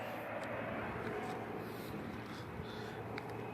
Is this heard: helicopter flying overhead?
yes